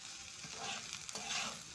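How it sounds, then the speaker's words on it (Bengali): Cut okra stirred in a hot pan, a steady close sizzle of frying with soft scraping and turning sounds, no talking. "সেই ঢ্যাঁড়সটা দিয়ে আমি এবার উল্টিয়ে পাল্টিয়ে একটু নেড়ে চেড়ে নেব"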